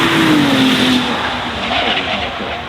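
Ferrari 296 GTS, a plug-in hybrid V6 sports car, driven flat out, its engine note a loud, sustained near roar with a falling then rising pitch and some tire noise, no voices.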